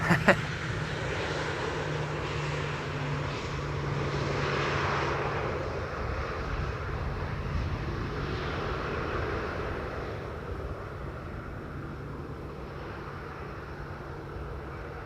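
An airliner landing on Schiphol's Polderbaan runway 18R roars loudly as its thrust reversers kick in, then the broad rumble slowly fades as it slows, with a low steady hum beneath and no talk.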